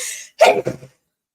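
A single sharp sneeze bursts out after a moment of hiss, followed by a brief second gust of breath; close and fairly loud.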